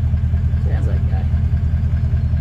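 A Toyota LandCruiser 200 series with a straight-through DPF-back exhaust idles close by, giving a steady, fairly loud low rumble with an even pulsing throb, while people talk over it.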